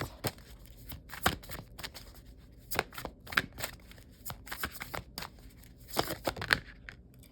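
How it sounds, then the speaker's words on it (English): Tarot cards shuffled by hand in a quiet room, a run of crisp riffling and slapping bursts with short pauses between them, close and moderately loud, no talking. "We'll get two more cards."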